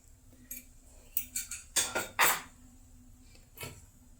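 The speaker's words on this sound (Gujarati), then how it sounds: "આ રીતે આપણે કુકરને ખોલી લઈશું." A pressure cooker holding cooked dal is opened with a short run of metallic clanks and clicks as the lid and weight are handled, close and fairly quiet, with a steady low hum underneath.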